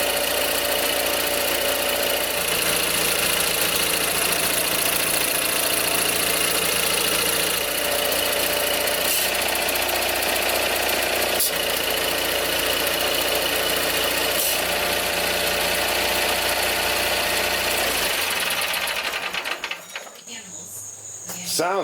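Simplicity Sunstar tractor engine running steadily, a loud close continuous drone with a high buzzing whine, holding even for most of the stretch before cutting off near the end.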